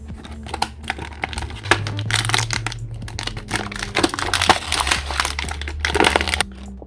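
Crinkly plastic packaging rustles and crackles in dense, irregular bursts as a Roblox figure from the Jazwares series is unboxed, close and fairly loud throughout with a low steady hum beneath.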